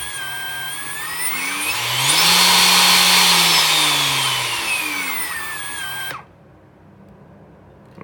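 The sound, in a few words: Makita XCU03 motor accelerating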